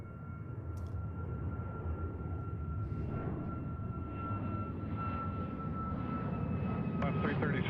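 An Alaska Airlines jet departing Seattle airport for Burbank gives a sustained, moderately distant engine roar with a steady whine, slowly building in strength.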